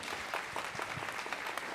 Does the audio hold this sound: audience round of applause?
yes